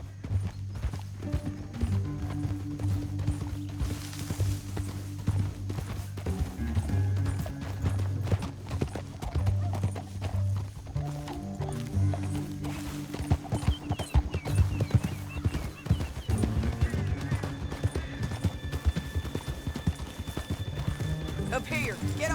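Horses gallop in the video game Red Dead Redemption 2, a continuous rapid clip-clop of hooves with an occasional whinny, running under steady talking throughout.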